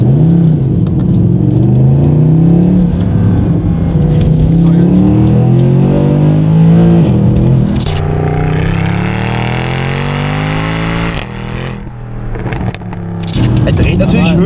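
A Mercedes-Benz AMG engine revs hard under acceleration, a loud sustained roar whose pitch sweeps upward through the gears, with someone talking over it.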